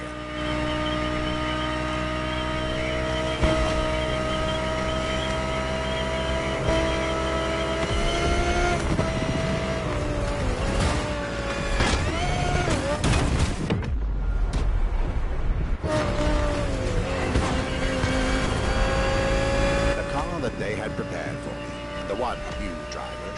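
A 2020 Audi R8 LMS GT2 race car in the Motorfest video game on PS5, its engine droning and rising and falling through gear changes for over twenty seconds, loud and continuous with a brief dip midway.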